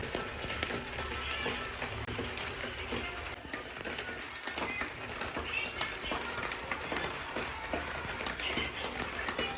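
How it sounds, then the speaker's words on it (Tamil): Steady rain falls on a rainy day, a dense, even hiss of drops patters across the surface throughout with faint mechanical clicking mixed in, and no one speaks. "நல்ல மழை வர இன்னைக்கு"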